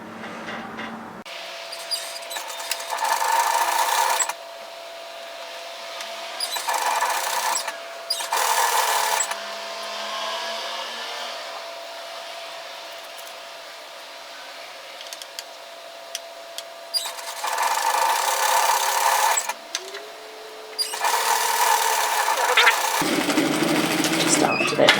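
A sewing machine stitches binding through a binder foot in several separate bursts of rapid whirring, each a few seconds long, with quiet pauses between them.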